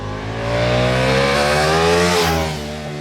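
A 2023 Ducati Diavel V4 motorcycle engine revs hard toward its 10,750 RPM top end, a loud sustained rising howl that holds steady, then dips and eases off near the end, with no talk over it.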